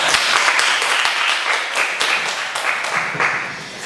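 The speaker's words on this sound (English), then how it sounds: "please give applause to the group for this presentation" An audience applauds a student group after their presentation on natural HVAC and lighting design for green buildings, a dense, steady wash of many hands clapping close by for about four seconds, fading slightly toward the end.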